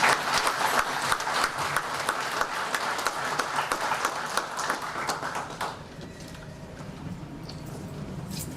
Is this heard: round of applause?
yes